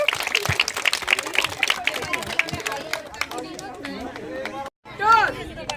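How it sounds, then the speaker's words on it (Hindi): Applause and crowd chatter for the players after a team's win at a village festival, scattered clapping mixed with lively talk and children's voices, a brief pause, then renewed noise. "तो जोरदार तालियां हमारे सारे प्लेयर्स के लिए"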